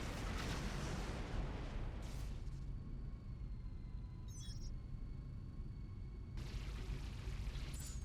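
Heavy, rumbling explosions from incoming missiles in the space game Rebel Galaxy, loud booming bursts at the start and again near the end, with a quieter hum and a short crackle between them.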